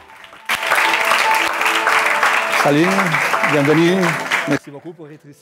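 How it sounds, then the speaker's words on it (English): Audience applause at a film festival industry meeting welcoming a group of film directors, a dense burst of clapping that cuts off abruptly, with a voice speaking over the final part and after. "So please welcome them with a big applause."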